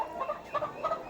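Chicks peeping inside a pen holding about 27 young birds, a few short high chirps repeating in quick bursts at moderate distance, with no talk.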